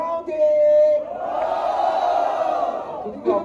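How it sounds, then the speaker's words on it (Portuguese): Crowd at a Brazilian street rap battle cheering and shouting together for the third round, a loud sustained roar of many voices with whoops, swelling then fading before a brief final burst. "Barulho pro terceiro round."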